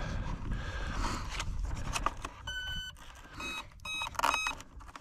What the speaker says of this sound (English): that three beeps is the how many cells it detected